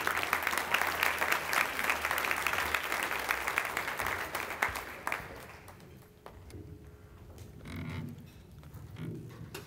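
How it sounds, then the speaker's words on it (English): Audience applause for a speaker being welcomed at a Voting Rights Act 50th anniversary event, a dense steady clapping that fades out around six seconds, followed by quieter room noise and faint movement. "if you could give him a round of applause"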